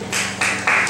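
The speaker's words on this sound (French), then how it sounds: "On applaudit." Audience applause at a school spelling contest, a dense burst of clapping from a crowd that swells in steps and stays loud through the moment.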